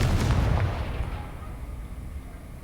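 Confringo explosion spell in a wizarding video game, a single booming blast at the start that fades into a rumbling tail, with no voices.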